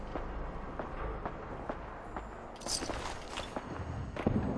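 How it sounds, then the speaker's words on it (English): Distant gunfire in Fallout 4 comes as scattered, muffled pops over a low ambient rumble, with footstep-like thuds and a brief hiss partway through. "I do hear some gunfire"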